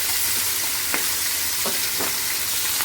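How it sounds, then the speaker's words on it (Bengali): Fish pieces frying in a pan during a Bengali fish curry, a loud, constant sizzle with a few short scrapes and taps as the pieces are turned. "মাছগুলোকে একটু উল্টে দিচ্ছি, একটা করে সাইড ভাজা হয়েছে"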